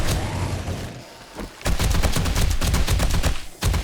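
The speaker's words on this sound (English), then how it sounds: "you just fire like this and then you reload quickly. And then you keep firing." Rapid gunfire in the video game 7 Days to Die, a loud run of evenly spaced shots after a short pause, then a brief break for a reload before firing resumes.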